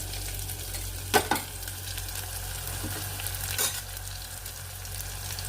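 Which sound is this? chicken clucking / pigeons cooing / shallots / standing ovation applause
shallots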